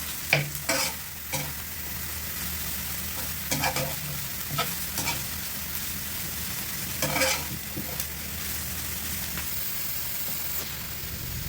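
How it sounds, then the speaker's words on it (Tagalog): Carrots and green beans sautéed for pancit canton guisado, a steady close sizzle of frying with a utensil scraping and stirring the vegetables in repeated strokes, no voices. "Yung ating green beans. Ayan, igisa-gisa natin yan guys."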